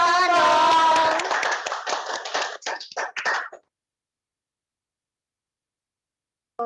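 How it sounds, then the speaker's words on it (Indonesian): Children and parents clap for a poem by first- and second-graders at a school Easter celebration, a dense burst of close hand claps that thins out over about three seconds, with a voice rising over the start, then silence. "Tepuk tangan dong."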